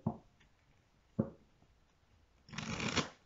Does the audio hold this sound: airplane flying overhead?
no